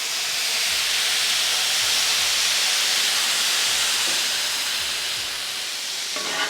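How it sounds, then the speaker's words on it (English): A loud, steady hiss of water steaming on a hot griddle after cooking smashburgers, sizzling continuously for several seconds with no voices. "And the water will help steam all the extra bits off of there."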